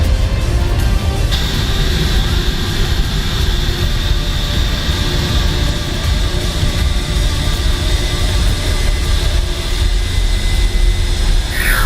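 The twin jet engines of an F/A-18F Super Hornet in Microsoft Flight Simulator roar steadily and loudly, a constant broadband rush with a high whine running through it, close and unbroken throughout.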